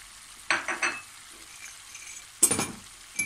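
Rice being sautéed in a pan for stuffed peppers, aubergines and courgettes, with faint sizzling broken by a few short bursts of stirring and scraping.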